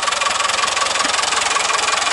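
A car's diesel engine idles steadily and close by, its loud, even rumble running without a break and with no voices over it.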